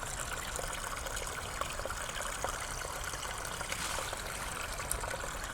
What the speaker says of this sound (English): there's a wee stream that you can hear just tinkling away.